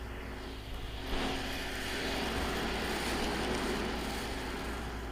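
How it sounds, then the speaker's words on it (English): A semi-truck's refrigeration unit running, heard as a recording played back at a council meeting: a loud, steady mechanical drone with a rough low rumble that holds constant for several seconds. "This is just one truck, a refrigeration unit on it. That's how loud they are."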